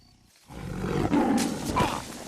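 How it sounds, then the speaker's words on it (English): A tiger roar from the animated film Ice Age rises abruptly after a quiet moment into a loud, deep, sustained growling bellow that swells and holds to the end. "this fucking huge-ass tiger roar should totally wake him up"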